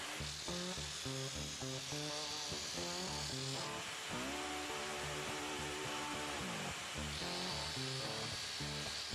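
A homemade drill-powered sander whirs alongside a running vacuum cleaner, giving a dense, continuous buzzing motor drone with shifting pitch throughout and music-like tonal layers underneath.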